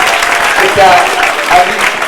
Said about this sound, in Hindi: मैं चाहूँगा जोरदार तालियों के साथ उनका स्वागत करें